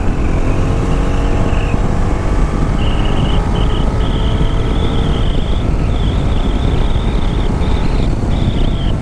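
A Bajaj Dominar 400 motorcycle cruising at speed on the road, a continuous loud roar of engine and wind noise with a faint high whine, steady throughout with no speech.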